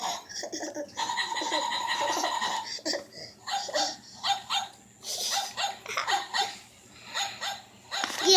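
A lively puppy barks and yips in quick, close bursts, mixed with laughter and excited voices, the sounds coming in uneven clusters with short pauses between them.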